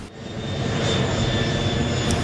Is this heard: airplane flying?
yes